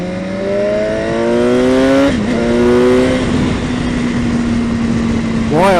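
A 2018 BMW S 1000 XR motorcycle engine revs hard and loud close by, pitch sweeping up through shifts before settling into a steady high drone, then climbing again at the end.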